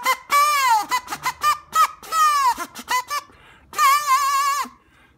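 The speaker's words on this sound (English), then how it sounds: "we're going to create this popsicle stick harmonica" Loud, nasal buzzing honks from a popsicle stick and rubber band harmonica in short and long bursts, rising and bending in pitch like a kazoo, close and alone.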